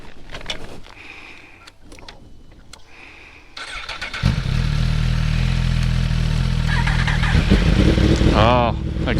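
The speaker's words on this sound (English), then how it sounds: "Oh, exhaust sounds so good." A Yamaha R1 sport motorcycle on the Tail of the Dragon road, its engine kicking in after a quieter stretch with faint sounds into a loud, steady exhaust drone that holds close up and ends with a brief rising rev.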